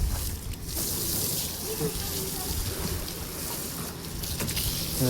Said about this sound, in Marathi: गाडीवर मारून देतो जरा पाणी